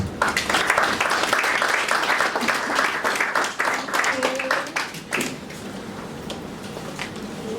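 An audience breaks into applause to welcome a speaker at a relationship talk event, dense clapping filling the first five seconds before thinning out, with some voices mixed in.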